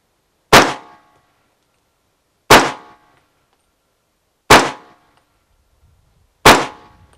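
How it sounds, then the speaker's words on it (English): Four 300 Blackout rifle shots striking a level 3 hard armor plate: sharp, loud cracks with a metallic clang, evenly spaced about two seconds apart, each decaying quickly into silence, with no voices. "we just hit it with 300 blackout, 4 shots"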